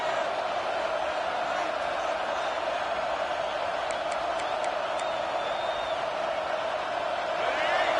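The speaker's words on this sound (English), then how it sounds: "Here comes this home crowd as the defense tries to get off the field on third down." A home crowd at an Auburn college football game against Florida roars steadily in a stadium on third down, a broad sustained cheer with a few whistles and whoops rising midway.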